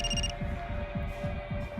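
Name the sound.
landline telephone ringing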